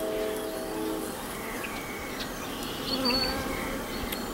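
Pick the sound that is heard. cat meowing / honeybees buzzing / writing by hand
honeybees buzzing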